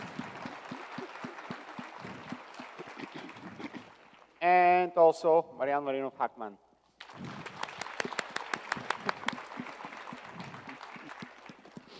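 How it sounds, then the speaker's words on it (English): Audience applause at a HackConf tech conference as panel speakers are introduced: two stretches of dense, steady clapping from a crowd, broken by a short tonal musical sting, with a voice talking over parts of it. "Big round of applause for him."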